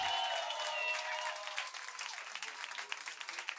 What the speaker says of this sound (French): Mesdames et messieurs, on l'applaudit encore très très fort.